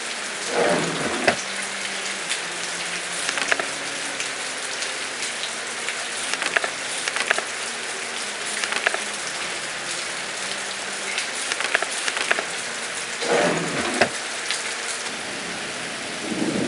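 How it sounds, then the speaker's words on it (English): Rain pours on a stormy island in the video game Agatha Christie: And Then There Were None, a loud continuous hiss broken by several rolling thunder rumbles and sharp crackling strikes. "Just a drizzle."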